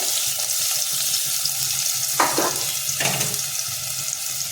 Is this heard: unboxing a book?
no